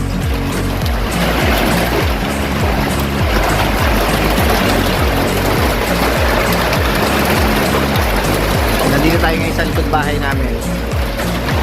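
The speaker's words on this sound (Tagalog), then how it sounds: "Lalo lumalakas yung ano, yung hangin sa ulan." Steady roar of a typhoon's wind-driven rain in Santa Cruz, Laguna, with broadband rushing noise throughout, loud and continuous, with a voice speaking intermittently over the storm.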